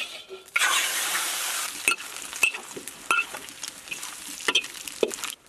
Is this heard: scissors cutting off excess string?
no